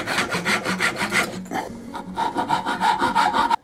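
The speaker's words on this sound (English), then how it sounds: "I'm going to come around with the saw and just chop out as much of this as I can" A handsaw cuts wood while shaping a custom handsaw holder, rhythmic back-and-forth rasping strokes, close and loud, with a brief pause midway before the sawing resumes.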